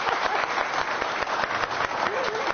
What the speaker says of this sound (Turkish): Alkışlarla yaşasın diyoruz kendisi her zaman.